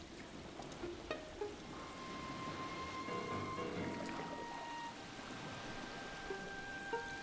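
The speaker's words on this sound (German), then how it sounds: "Regen." Steady rainfall from a rain power cast in the haunting strategy video game Ghost Master, a faint continuous hiss with a few soft tonal game effects over it.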